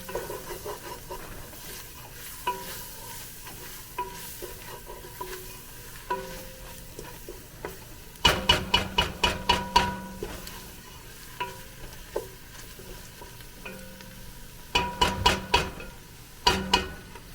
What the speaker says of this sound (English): I'm going to cook my roux a little bit longer, kind of like I would for a gravy